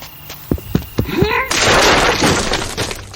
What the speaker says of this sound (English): crashed through the door and burst into the darkened hall beyond, sending splinters of rent timber everywhere